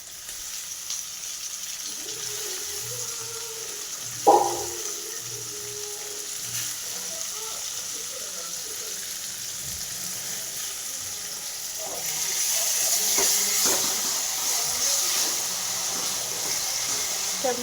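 Chopped tomato frying and being stirred in a pan: a steady sizzle with a sharp clatter early on, growing somewhat louder and hissier near the end as the mixing goes on.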